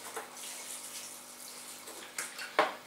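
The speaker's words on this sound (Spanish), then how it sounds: "Pues regamos, a ser la primera vez que regamos, vamos a hacerlo en abundancia" Water pours from above onto the soil of a potted pineapple top during a first generous watering, a soft, steady splash and trickle, faint and close, ending with a small sharper splash.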